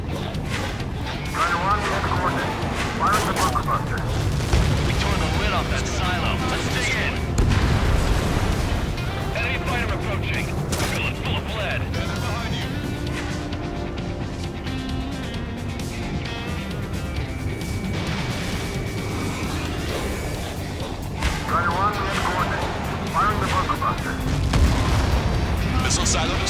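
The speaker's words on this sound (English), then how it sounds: "Fire the bunker buster." Bunker buster bombs from a jet strike a missile silo in Ace Combat 7, heavy booming blasts and rumbling over constant engine roar, with radio voices talking throughout.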